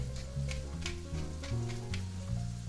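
Pieces of meat brown in a hot frying pan, giving a soft, steady sizzle that sits beneath louder background music.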